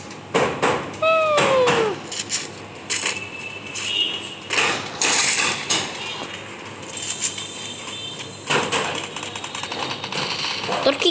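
A cat meows once with a short, falling, tonal call, heard over the busy clicks, bursts and effects of a Free Fire mobile game, with voices talking in between.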